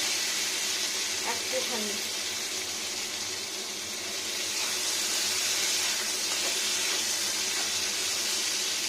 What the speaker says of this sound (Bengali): এটা বেশি ভাজার দরকার নেই, যাতে সজনে ডাঁটাটা লবণটা পেয়ে যায়